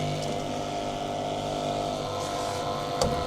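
A vapor blasting machine hums steadily, noisy but working, a continuous loud droning pump and motor with no pauses.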